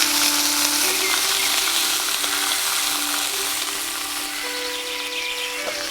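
Dexter beef sirloin sizzles steadily in a hot pan in its own rendered fat outdoors in the woods, a close, even crackle and hiss running throughout with no voices.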